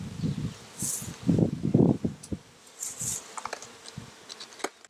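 Honey bees buzzing around a backyard hive topped with a newly added super, a close, uneven hum rising and falling through the clip with light rustling.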